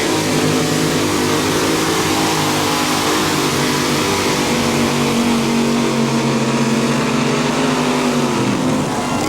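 A powerful mini rod pulling tractor engine roars continuously at high revs at a tractor pulling championship in Bowling Green, Ohio, its pitch holding and then sliding downward near the end, loud and close with no talk.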